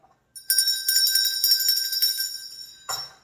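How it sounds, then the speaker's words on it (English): A handheld bell rung to call a family to dinner of French dip sandwiches, a loud, bright, steady metallic ringing that runs for about two seconds and then stops, followed by a short burst of speech. "Probably don't need to ring the bell, but I'll do it anyway."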